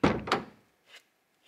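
A freshly fitted door swings shut on its newly mounted hinge, landing with a solid close thunk and a quick follow-up knock, then a faint light tap after a brief quiet.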